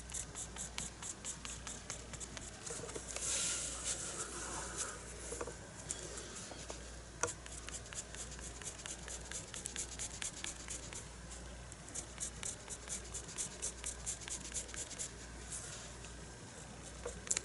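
Colored pencil scratches steadily across paper in a continuous fine rasp of short strokes, quiet and close, with no talking.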